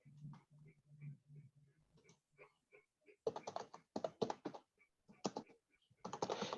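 Quiet, close keystrokes on a computer keyboard, first a few sparse taps, then bursts of rapid typing, with a low hum early on.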